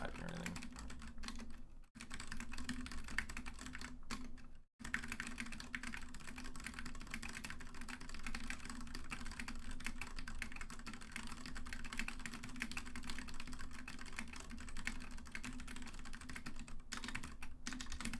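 Computer keyboard typing runs steadily for about eighteen seconds, a dense, close run of rapid key clicks with only a couple of brief pauses.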